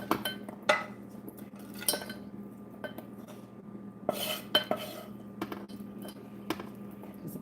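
Roast pork stuffing with apricot and shallot is stirred in a bowl with a utensil, giving a series of irregular clinks and scrapes, some sharper knocks, close and fairly quiet with no talk.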